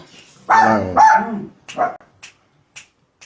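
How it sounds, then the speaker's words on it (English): A dog barks loudly twice close by, followed by a few shorter, quieter yips and woofs trailing off. "Can't hear you over the dog."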